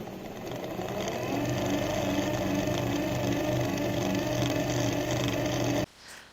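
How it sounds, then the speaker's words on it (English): A small 220-volt electric motor run at reduced voltage hums and whirs steadily at modest speed, close by, then cuts off abruptly near the end. "that's your motor, although it's 220 volts, but I'm running it at lower voltage"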